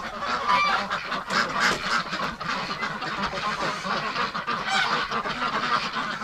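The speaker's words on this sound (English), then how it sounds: "They're loud. Holy mackerel. Well, I think they're stressed." Ducks and geese wintering indoors during an extreme cold lockdown honk and quack loudly and continuously, a dense overlapping chorus of close birds with no pauses.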